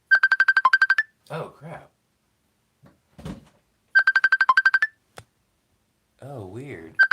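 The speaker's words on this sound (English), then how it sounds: "my phone was ringing" A mobile phone ringtone plays in two short bursts of rapid, bright electronic pulses, each about a second long, with a casual spoken exclamation and other voices between them.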